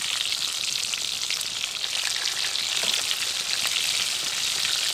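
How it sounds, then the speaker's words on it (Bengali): A chicken cutlet fries gently in oil over low heat, giving a steady, even sizzling hiss with faint crackles throughout and no voices. "আঁচ একদম কমিয়ে রেখে আস্তে আস্তে কাটলেটটা ভাজা হবে"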